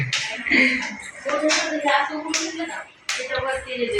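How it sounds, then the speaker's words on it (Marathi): Hands clap in quick uneven bursts during garba dancing at a birthday party, sharp and close, mixed with overlapping voices and chatter. "तू फक्त टाळ्या वाजवते आणि गोल फिरते."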